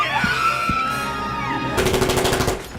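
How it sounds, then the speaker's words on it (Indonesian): Rapid gunfire bursts inside an airplane during a film's hijacking scene, a dense rattling volley breaking out loudly over tense music and ambient noise in the cabin. "Ketegangan meningkat ketika suara tembakan terdengar di dalam pesawat."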